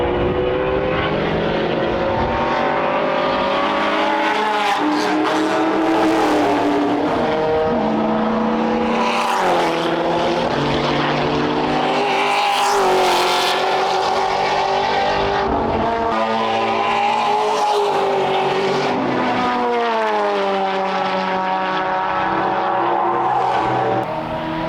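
Improved production touring cars, including turbo Nissan Datsuns, race at Symmons Plains, their engines a loud continuous roar with harmonic tones rising and falling as cars pass and shift, with no talk.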